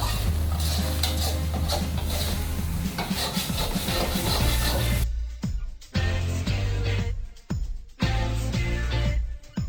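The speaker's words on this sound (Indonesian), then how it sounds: "Terus kita aduk lagi." Sambal lado, chili ground with salt, being stirred in a pan: a steady scraping and sizzling that runs loud and continuous at first, then breaks into separate stirring strokes with short gaps, close up and with no talk.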